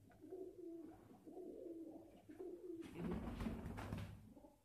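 High-flyer pigeons cooing in a loft in Nagpur, India, a few low rolling coos repeating close by, followed by a rustle of handling or wing noise near the end.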